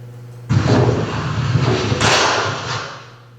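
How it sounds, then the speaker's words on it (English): A gunshot recorded outdoors on a street in New Hampshire hits with a sharp onset, then a broad, sustained rumble and reverberation that swells again before fading over a few seconds. "It's a gunshot."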